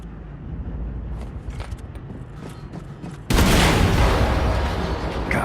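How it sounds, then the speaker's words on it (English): A fuel tank explodes in a hangar bay in the shooter Wolfenstein II: The New Colossus, a sudden loud broadband blast cutting in over steady rumbling ambience and sustaining a roaring wash afterward. "Achtung, Explosion in der Hangarbucht."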